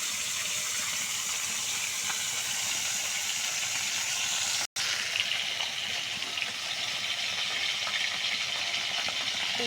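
Fish coated in salt and turmeric frying in oil in a pan, with a steady loud sizzling hiss that runs continuously, broken only by one instant of silence midway.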